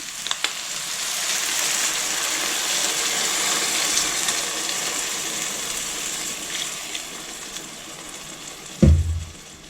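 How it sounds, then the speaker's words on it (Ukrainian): Water poured into a pan of frying carrots and onions seasoned with bay leaves, salt and pepper: a steady, close sizzle fills the whole stretch, ending in a brief loud gush and splash near the end. "Заливаю водою."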